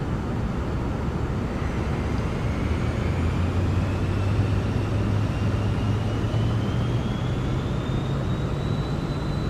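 A Cirrus Vision jet taxis in Microsoft Flight Simulator 2024, its engine producing a steady broadband roar with a low drone and a slowly rising whine, continuous and close.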